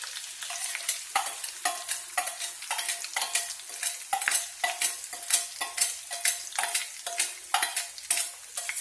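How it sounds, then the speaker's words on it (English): Bacon fries in a cast iron skillet, a close, steady sizzle broken up by repeated scraping and stirring strokes in a quick, uneven rhythm, with no talking. "That bacon sure is cooking."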